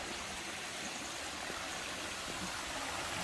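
A shallow stream on a trek to Tadfa Waterfall in Chaiyaphum flows with a soft, steady hiss and gurgle, faint and continuous with no voices.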